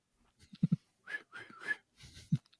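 Someone attempts to whistle, producing a few breathy, airy notes with soft puffs and clicks in between, short and uneven.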